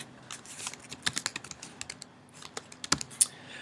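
Quick, uneven keystrokes on a computer keyboard while entering campaign details for an online ad account, close and clear with a few sharper key clacks and no talking.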